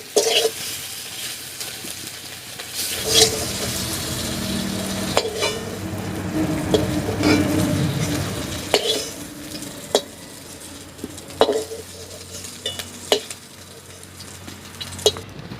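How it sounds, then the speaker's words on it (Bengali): Potatoes fry in oil with salt and turmeric, a close steady sizzle broken by repeated scraping and clinking stirs of a spatula against the pan, with no voices. "নুন হলুদ দিয়ে আলুটা ভালো করে ভেজে নেব।"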